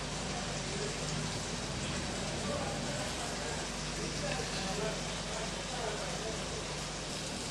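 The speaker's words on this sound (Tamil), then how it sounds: "கொஞ்ச நேரம் நல்லா கொதிக்கட்டும்." A steady crackling sizzle of tamarind sauce for puliyodharai bubbling and spitting in a pan continues evenly throughout without a break.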